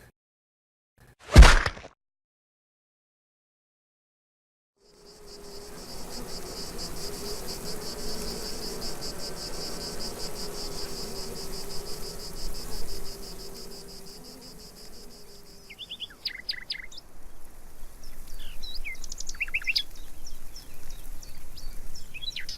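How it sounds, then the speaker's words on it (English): Outdoor insects chirping in a continuous, dense buzzing drone that starts after a sharp thump and a few seconds of silence, then carries on steadily with some shifting rhythm. "The insects are chirping."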